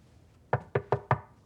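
Four sharp knocks on a door in quick, slightly uneven succession, close and distinct against a quiet room.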